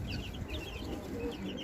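Several newly bought hens kept on a rooftop cluck softly and steadily close by, with a low background hum and no voices.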